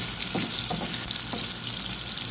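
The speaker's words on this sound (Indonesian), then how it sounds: "Ini dagingnya tuh sambil diaduk-aduk ya agar tidak gosong." Beef stir-fries in a hot pan, a close steady sizzle broken by a few scraping stirs, short and unbroken with no one talking.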